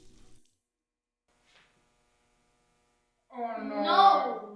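Water runs from a tap in a short burst near the end, rising briefly after near silence, loud and close.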